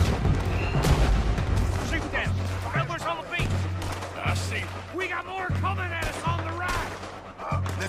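Cannon blasts and gunfire in the Red Dead Redemption 2 mission Hell Hath No Fury, a string of heavy booms at regular intervals with sharp shots between, loud and close, mixed with shouting voices and game music.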